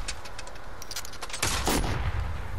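In Fortnite, a rapid string of distant-sounding gunshots rattles off in quick succession, then heavier, louder shots burst in close by near the end.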